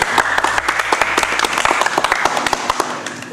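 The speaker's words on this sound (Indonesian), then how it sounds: "tepuk tangan sekali lagi" Audience applauding and clapping steadily at a live comedy roast show in Indonesia, a dense wash of many hands sustained for several seconds, with scattered sharper claps and faint voices in the crowd.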